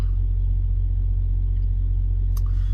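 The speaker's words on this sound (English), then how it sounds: "he's leaving right now without ever delivering anything tonight" A Hirschbach semi truck idles and rumbles nearby with a deep, steady low-frequency drone, a brief sharp click near the end, no talk.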